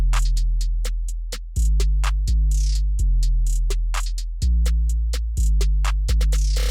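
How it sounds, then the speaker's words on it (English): Simple 808 bass pattern in a hip hop beat made in FL Studio: loud, deep sustained booming notes sliding in pitch every second or so beneath rapid hi-hat ticks and snare hits, no voices. "I added this simple 808 pattern."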